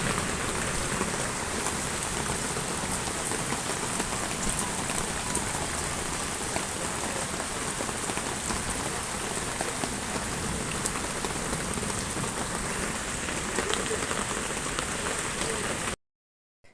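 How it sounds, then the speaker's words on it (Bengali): Heavy rain pours down at Gazipur Safari Park, a dense, even roar of drops drumming on surfaces that holds steady and loud for about sixteen seconds, then cuts off. "আকাশে অনেক মেঘের গর্জন আর অনেক জোরে জোরে বৃষ্টি হচ্ছিল।"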